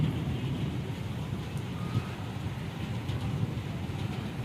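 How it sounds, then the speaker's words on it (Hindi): Heavy rain falls outside a family home in the morning, a steady broadband hiss heard from indoors or nearby, with no clear thunderclap. "और ये देखिए बारिश हो रही है"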